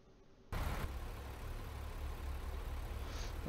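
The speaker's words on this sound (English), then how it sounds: "Sounds like the engine's already on." A truck engine idles in American Truck Simulator as a steady low rumble that starts abruptly and then holds even and continuous, with no voices.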